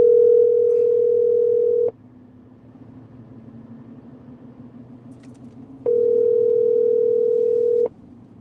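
A telephone dial tone sounds twice when calling in to a phone line, each steady tone lasting about two seconds and separated by a quieter stretch of low background hum.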